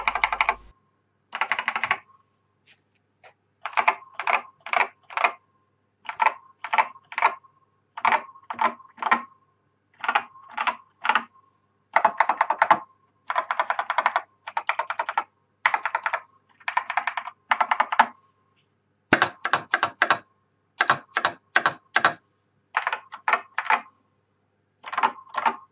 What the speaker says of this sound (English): I leave you with a brand new VIP 7251 terminal keyboard.